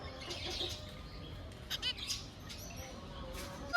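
Caged finches and lovebirds, including zebra finches, chirp and squawk in scattered bursts with intermittent wing flapping, close and fairly busy, over a constant background hum.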